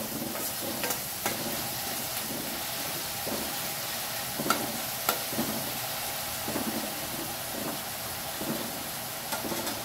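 Chopped onions with salt fry in an oily pan for a drumstick and egg curry while a spoon stirs them, a continuous sizzle broken by regular scraping strokes and light clinks, close up with no talking.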